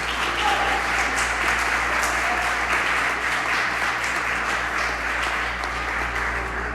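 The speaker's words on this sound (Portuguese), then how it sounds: "dá um aplauso a Jesus nessa manhã" A church congregation applauding during a morning service in praise of Jesus, a steady, dense wash of many hands clapping that fills the room at even loudness throughout.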